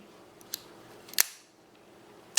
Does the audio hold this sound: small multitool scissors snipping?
yes